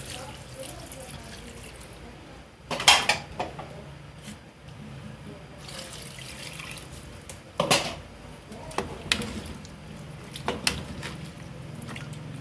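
Water splashes and trickles into a pressure cooker over meat for Paraguayan jopara, with intermittent pours, clinks of the pot and quiet kitchen background.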